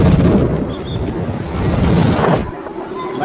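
A loud, rumbling blast roars and rolls on for a couple of seconds before cutting off, leaving a quieter background.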